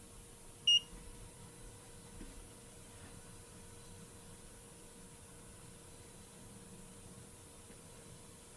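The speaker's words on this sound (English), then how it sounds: "it beeps and lets you know that it's warm enough" A single short electronic beep from a Cetus3D 3D printer signaling it has warmed up sounds near the start over a faint, steady machine hum and hiss.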